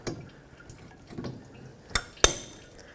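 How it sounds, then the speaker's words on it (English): Brake fluid from a rear caliper on a 2005-2010 Pontiac G6 drips into a collection bucket, a few distinct close drops with sharp metallic pings at the end. "The caliper is going to want to drain. I have a collection bucket catching all of this fluid."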